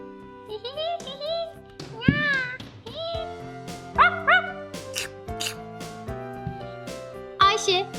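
A dog found on the street barks and yelps in quick, high bursts while at the veterinarian's, mixed with other bright tonal sounds throughout.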